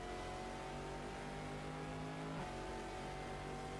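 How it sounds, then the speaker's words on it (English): A steady engine drone with a sustained tonal whine, a race car at racing speed in a racing video game at the 12 Hours of Sebring, holding pitch before shifting slightly partway through, with no voices. "Love the sound of this engine."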